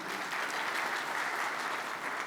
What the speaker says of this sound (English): Can we have a round of applause for yourselves?